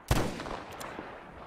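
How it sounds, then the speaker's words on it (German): A single loud gunshot from a firearm in the shooter game Metro Exodus cracks near the start, then a reverberant tail and low rumble fade over the next second. "Ich vergeude hier voll meine Schüsse"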